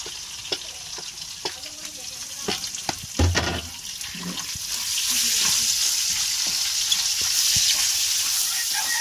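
Onions, garlic and ginger sauté in hot oil for lugaw, giving a steady sizzle that swells and stays loud, with scattered stirring clicks and a brief clatter early on.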